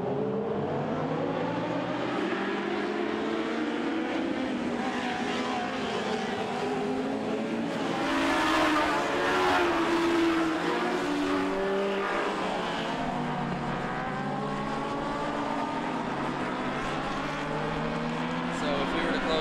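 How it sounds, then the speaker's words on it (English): Race cars at Nashville Fairgrounds Speedway roar past in a continuous, layered engine drone that swells in the middle, heard from a moderate distance and fairly loud. "Gentlemen, let's start those engines and get this thing going."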